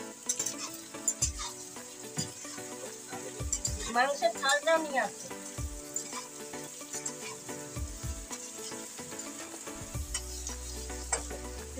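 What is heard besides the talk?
potatoes and onions frying together in a pan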